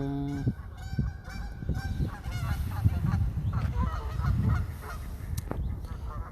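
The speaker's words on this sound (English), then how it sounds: "Well, welcome to the birds this morning. Some of them just flew in and they're enjoying themselves." Geese that have just flown in for a morning bath honk loudly and repeatedly, several birds calling over one another close by, with splashing and flapping underneath.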